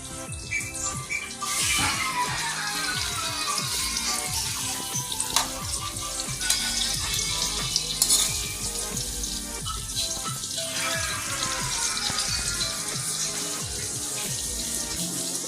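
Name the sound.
frying dried fish in pan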